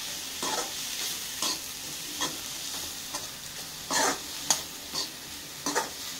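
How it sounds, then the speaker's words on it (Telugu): Fried onions for paneer paratha stuffing are stirred in a hot pan. A spoon scrapes in repeated strokes about once a second over a steady low sizzle, close and clear, with no talking. "ఉల్లిగడ్డ అంతా ఇలా వేసి మిక్స్ చేసి పెట్టుకోవాలి"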